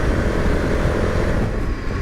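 Steady, loud engine drone and wind rush from a 2021 KTM Super Adventure S motorcycle being ridden, a constant roar with no voices.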